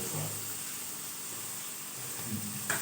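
Cumin and onion frying in a pan give a steady, close hiss of sizzling with no pauses, and a few faint knocks near the end.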